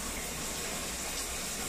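A shower faucet running water, a steady close rush and hiss that fills the space without pause.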